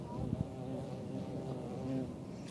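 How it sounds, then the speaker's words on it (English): A big bee buzzes close around a microphone outdoors at an airport, a loud droning hum that wavers in pitch as it circles, heard alone for a couple of seconds. "There's a big bee or something flying around one of my mics."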